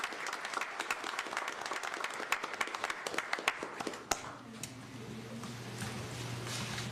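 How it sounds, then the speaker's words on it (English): Applause from an audience at a city commission meeting, a burst of dense clapping for a few seconds that thins to scattered claps and then gives way to quiet room noise with a low hum. "can we give her a round of applause?"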